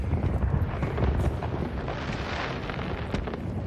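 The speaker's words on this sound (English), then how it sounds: "I end up setting off the fireworks, which causes a little distraction getting my target out in the open." Fireworks set off in a stealth video game, a loud, dense rumble of crackling bursts and booms that runs continuously throughout.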